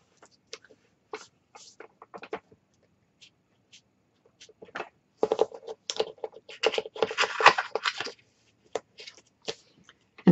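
Paper being trimmed for a mini album cover: a trimmer blade gives sparse quiet clicks and taps, then a busier burst of scraping, slicing cuts, all near and faint with no talk.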